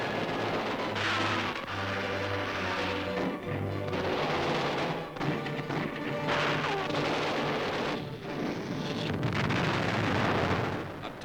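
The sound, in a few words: tank hitting a land mine, explosion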